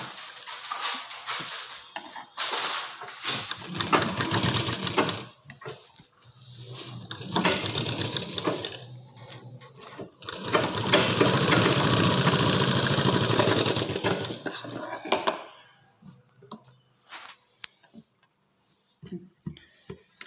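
A sewing machine stitches a pressure strip on a garment in bursts of rapid mechanical whirring, several short runs and a longer steady one, close by with pauses and brief handling noises between.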